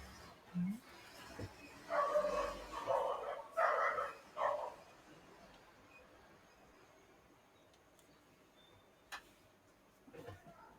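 Small dogs yap in a few short bursts at a passing garbage truck, moderately near, then the scene falls quiet apart from faint scattered ticks.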